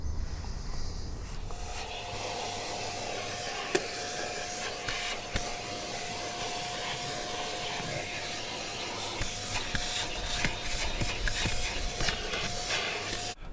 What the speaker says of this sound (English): we can go in there now with the vacuum